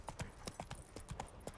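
Roach the horse, in The Witcher 3, trots with quick rhythmic hoofbeats, a dozen or so close, crisp clip-clops against quiet background.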